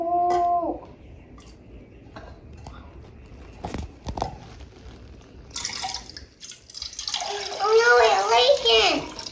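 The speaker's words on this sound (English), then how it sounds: "We have a watermelon drink that we're gonna pour it." Watermelon drink poured as part of a children's ASMR session, a soft trickling and splashing stream that grows louder toward the end, preceded by quiet taps and a voice briefly speaking.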